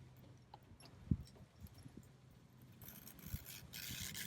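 Scraping out the heart of a plant in the Everglades: rough rasping scrapes with a couple of sharp knocks, growing into a louder, sustained hiss toward the end.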